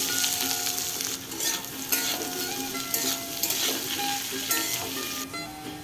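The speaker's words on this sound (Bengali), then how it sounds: "এবার ওই তেলের মধ্যেই দিচ্ছি গোটা জিরে, কুচনো পেঁয়াজ। হালকা করে ভেজে আলুগুলোকে এবার ওর মধ্যে দিয়ে দেব।" Potatoes fry in oil with whole cumin seeds and chopped onion, giving a loud, continuous sizzle and crackle up close, broken by the repeated scrape and clatter of stirring in the pan.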